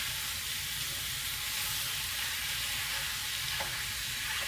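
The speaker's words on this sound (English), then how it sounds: "Now we're just going to break up this ground beef and this sausage" Ground beef and sausage frying in a pan for meat sauce, giving a loud, continuous, dense sizzle as the meat is broken up, with a faint scrape of a utensil near the end.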